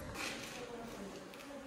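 Rescued bees buzz faintly and continuously while being carried to a farm in Hargeisa, Somaliland, a soft, steady hum over a short stretch.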